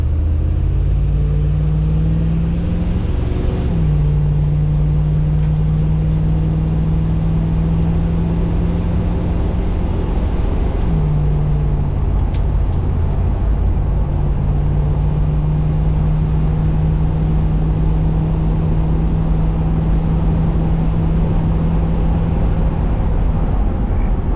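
A 1979 GMC Vandura G25 van cruising on the highway at about 100 km/h, a loud steady low engine drone and road rumble throughout, with slight shifts in pitch, no voices.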